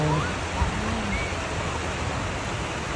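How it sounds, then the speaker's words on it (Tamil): Small sea waves break gently on a beach, a steady broadband wash of surf with no distinct individual crashes, fairly close and continuous. "இங்கே பார்த்தீங்கன்னா குட்டி குட்டியாக வருது இந்த அலை"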